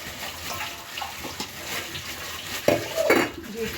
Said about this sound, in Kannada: ಈ ಥರ ಹಿಂಗೆ ಮಾಡ್ಕೊಂಡು ಕ್ಲೀನಾಗಿ ನೀರು ಹಾಕ್ಬಿಟ್ಟು ತೊಳ್ಕೊಬೇಕು